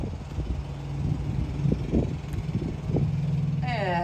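Car ride to a hotel heard from inside the vehicle, a low steady engine hum with road and wind rumble and faint thumps, ending in a short rising chime.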